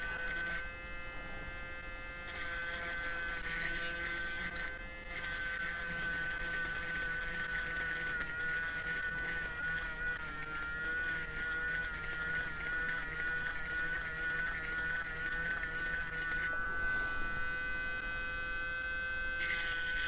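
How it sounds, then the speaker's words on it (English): A Dremel rotary tool grinds out holes in a 3D-printed part, a steady high-pitched whine with a droning hum running continuously and loud throughout, the pitch shifting slightly as the bit works. "they will require some Dremel action"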